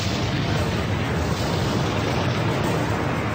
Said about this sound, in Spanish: Un gigantesco tapón de roca y tierra fue lanzado al aire, en una explosión 1000 veces más potente que la bomba que cayó sobre Hiroshima.